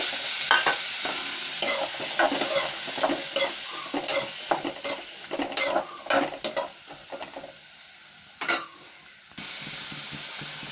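Ginger, garlic and shallots frying in oil in a pan for tomato chutney, a steady sizzle broken by repeated scraping stirs from a spoon, close and fairly loud, with no talking.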